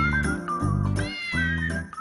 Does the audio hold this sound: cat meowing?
yes